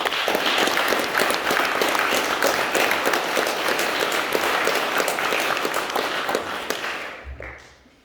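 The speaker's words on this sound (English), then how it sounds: "Please give our new co-presidents and deputies a huge round of applause" A crowd at a school academic prizegiving applauds newly named student co-presidents and deputies, steady dense clapping that carries on loudly for several seconds before tapering off at the end.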